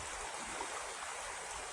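Spring-fed river water flows in a steady, close, unbroken rush with a bright hissing texture and no voices over it.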